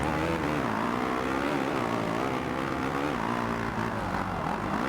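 Motocross bike engine in the MXGP2 racing game, a steady buzzing drone with shifting pitch as the throttle rises and falls, continuous and loud with no gaps.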